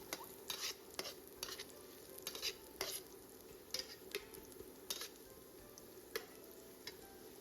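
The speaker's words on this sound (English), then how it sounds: "Add the minced garlic and dried shrimp. Stir fry until fragrant." Minced garlic and dried shrimp stir frying in a wok over medium heat: a soft, steady sizzle broken by a series of scraping spatula strokes and light clinks against the pan, quiet and close, with no talking.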